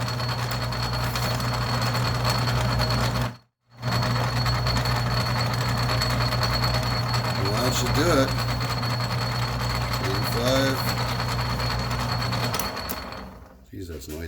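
An Atlas 10-D metal lathe with rattly back gears parts off a lead screw, giving a loud, steady mechanical whine and grinding hum with a brief cut-out early on, then winding down near the end as someone speaks briefly.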